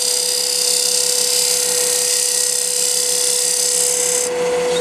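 A woodturning tool cuts a bevel on a wooden wine goblet spinning on the lathe, producing a loud, continuous hissing scrape with a steady motor hum that tapers slightly at the end.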